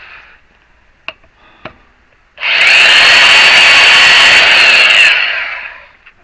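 A power tool cuts through a metal part for a homemade experimental wind generator, a loud sustained grinding whine lasting about three seconds after a few small knocks, then winding down.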